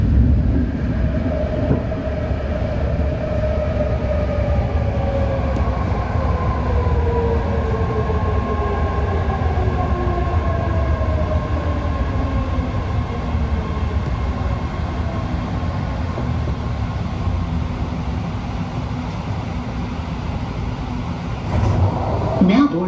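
A BART train pulls into Colma station in the San Francisco Bay Area with a loud, steady rumble, and the pitch of the motor whine glides down as it slows. A brief automated announcement is faintly audible near the end.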